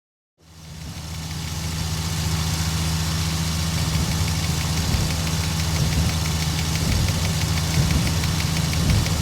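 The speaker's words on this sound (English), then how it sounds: "Here's the full clip again so you can hear my throttle work." Propeller aircraft engine in the Aces High 2 flight combat game, droning steadily and loudly throughout, with subtle shifts in pitch and intensity as the throttle is worked, no voices present.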